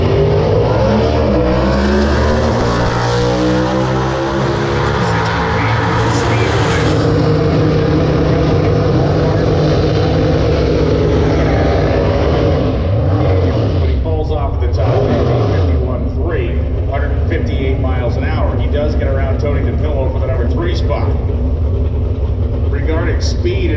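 A Super Stock drag racing car at the NHRA US Nationals in Indianapolis roars loudly and continuously, its engine pitch rising and shifting as it runs, with a public-address announcer talking over it.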